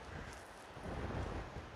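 Strong gusty wind buffets the microphone on a mountain trail, a steady low roar that swells louder midway through, with no talking.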